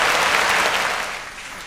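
Steady, dense applause from an audience at a Tamil New Year special debate event, full and continuous, tapering slightly toward the end with no voices over it.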